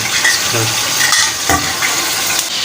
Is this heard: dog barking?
no